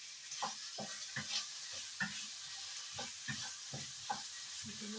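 Meat with garlic and onions mixed in a pan, heard as soft, irregular scrapes and taps of a utensil over a faint, quiet sizzle.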